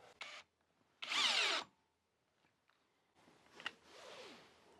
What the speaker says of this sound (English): We'll be using a much larger screw because low speed has much more torque, especially on some of these drills.